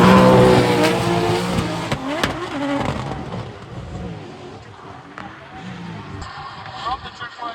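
Drift cars battle at a drift event, a 1,000-horsepower turbocharged 2JZ car against a naturally aspirated V8, engines roaring loudly at first and then fading while tires squeal, with a commentator talking over the noise throughout.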